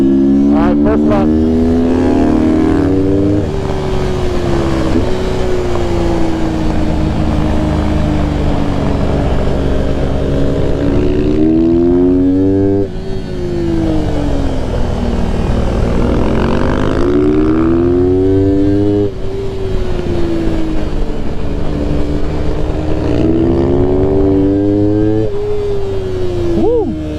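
A race car engine, the Mini Rip, screams through a hard practice lap, rising and falling in pitch with each upshift and braking zone, loud and continuous from onboard.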